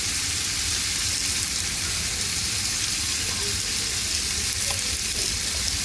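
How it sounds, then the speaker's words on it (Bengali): Potatoes with tomato, salt, turmeric and chili powder sauté in a pan for aloo dum, giving a steady close sizzle with faint scraping from stirring and no voices. "আলুটা দিয়ে দিব টমেটো দিব লবণ দিব হলুদের গুঁড়া দিব মরিচের গুঁড়া দিব দিয়ে ভালো করে কষাবো"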